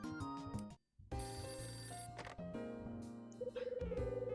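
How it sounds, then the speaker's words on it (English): Telephone ringing in the video game Hotel Dusk: Room 215, a repeating electronic ring in pulsed bursts over a tonal game music background, moderately quiet, with a brief drop near the start. "The phone's ringing."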